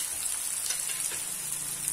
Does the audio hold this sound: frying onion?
yes